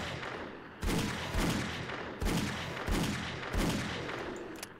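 Several loud gunshots from a weapon in the 7 Days to Die video game as a bear is shot, about five sharp reports spaced irregularly over a steady background din, with no talking.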